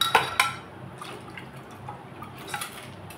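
Dal lentils drop into a cooking pot with two quick splashy clatters at the start, followed by a low watery settling and light metallic clinks of a spoon, close up, with no voices.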